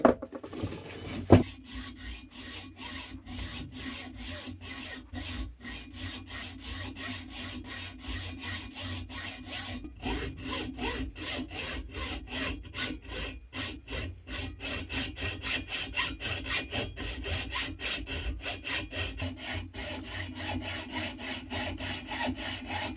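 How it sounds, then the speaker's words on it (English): A hand saw rasps steadily back and forth through a metal skateboard truck hanger, continuous rhythmic strokes close up with no talking. "I start by sawing around the hanger where I mark the position with tape."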